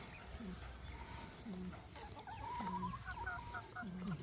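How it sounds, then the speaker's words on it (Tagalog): Several farm chickens clucking and murmuring softly in short repeated calls, fairly close, over a faint outdoor background. "Ito na po yung mga manok natin dito."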